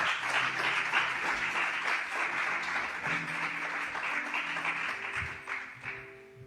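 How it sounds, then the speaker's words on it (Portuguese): A church congregation applauds with strong, continuous clapping that holds for several seconds, with faint sustained tones underneath, before tapering off at the end. "com uma forte salva de palmas ao Senhor Jesus."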